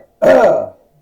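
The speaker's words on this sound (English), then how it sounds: "All this coughing, clearing of the throat." One quick, rough throat-clearing burst, close and fairly loud, lasting about half a second and followed by quiet, heard during a wrestling broadcast.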